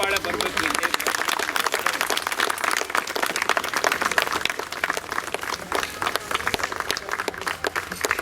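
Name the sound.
audience applause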